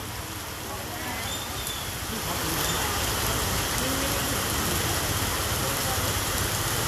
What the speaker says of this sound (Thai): พอดีวันนี้ฝนตกหนักนะครับ